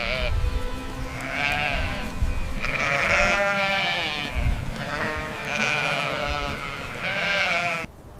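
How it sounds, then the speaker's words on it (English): Ewes in a moving flock bleat to call their lambs, several drawn-out, wavering calls repeating one after another, clear and fairly close. "When the flock moves, mothers call their lambs, a soft ma that only their babies can recognize."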